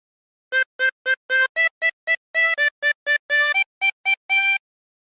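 A tune on a chromatic harmonica: a short run of about sixteen clear, reedy notes in quick repeated groups, played alone and up close.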